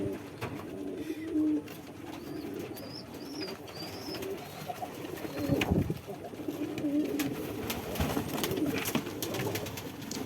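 Fantail pigeons coo softly in low, throaty bursts on a rooftop, with a few brief chirps and some handling noise and shuffling nearby.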